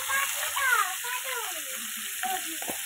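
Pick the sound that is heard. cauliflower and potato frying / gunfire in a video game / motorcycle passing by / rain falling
cauliflower and potato frying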